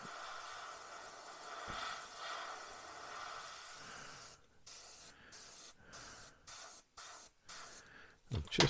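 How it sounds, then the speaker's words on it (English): An airbrush sprays paint onto a Tamiya M1A2 Abrams scale model tank, making a close, soft continuous hiss. Toward the end the hiss breaks into a series of short, rhythmic bursts. "Give us a slightly more defined spray pattern."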